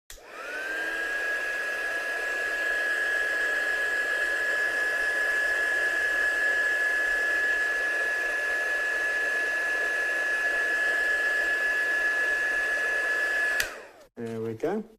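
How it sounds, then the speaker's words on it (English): A heat gun blows steadily on a handmade card to dry dye spray, a loud continuous whooshing hiss with a high whine held for about thirteen seconds before it cuts off, followed by brief handling noises. "I'm just going to give that a quick blast with a heat gun now to make sure that's all dried"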